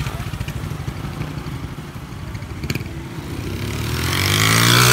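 A motorcycle rumbles along a busy Brazilian street, its engine note building and swelling louder toward the end as it passes close by.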